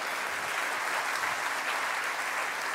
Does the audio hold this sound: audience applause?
yes